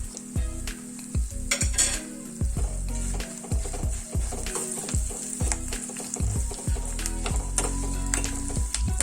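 Curry leaves and dried red chillies sizzle in hot oil for a South Indian tempering, a steady loud crackle broken by repeated bursts of sharp popping all the way through, with no voices.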